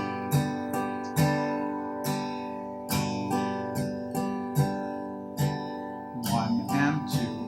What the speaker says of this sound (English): And then if we strum it, it'll sound like this.